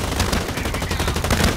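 Dense, rapid gunfire in the shooter game Blacklight Retribution: continuous loud bursts crackling without pause, close by.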